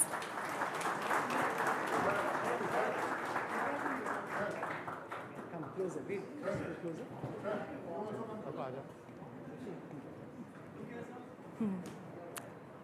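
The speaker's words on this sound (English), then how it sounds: "A huge round of applause for the winners." Audience applause for the winners at an Indian food awards ceremony, a dense roar of clapping that starts loud and gradually thins out, with some voices mixed in.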